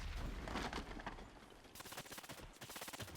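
A remote mine detonates in the World War II strategy game Men of War II. A loud, dense barrage of crackling blasts and rapid booms rolls on continuously, with no talking over it.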